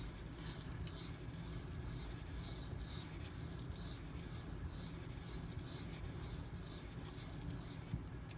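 A knife drawn across a hard Nano Hone whetstone gives quiet, rhythmic scraping strokes, repeated about once a second, close and soft, with no talking.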